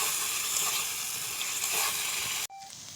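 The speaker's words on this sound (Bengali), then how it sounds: "2 টেবিল চামচ টমেটো সস। এটাকে আমি সুন্দর করে ভেজে নেব।" Tomato sauce frying in a hot pan, a steady bright sizzle that holds evenly for over two seconds and then drops abruptly to a much softer hiss, close and alone.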